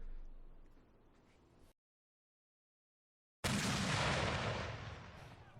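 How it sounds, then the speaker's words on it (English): Civil War Confederate artillery cannon fire from atop a ridge: a faint rumble fades to silence, then a loud booming blast erupts and rolls away slowly. "Confederate artillery atop the ridge opened fire"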